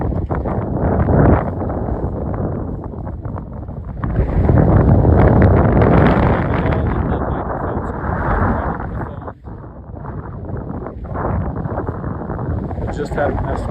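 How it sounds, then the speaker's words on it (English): Strong wind roars and buffets the microphone at the summit of Arapahoe Basin ski area in Colorado, loud and continuous with gusting surges, while people talk through it. "Oh yeah, it's really windy up here."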